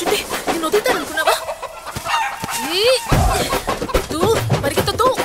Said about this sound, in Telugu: కోడిని పట్టుకోవాలా?